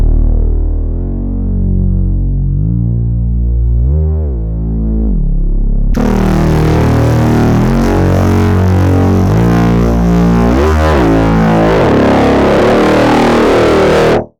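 A sustained melodic synth line run through a free distortion plugin, clean at first, then turning harsh and buzzing with heavy distortion from about six seconds on, loud and continuous.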